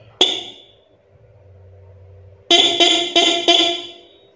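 Cheap aftermarket car horn given one quick tap near the start, followed by a rapid burst of four short honks, loud and close.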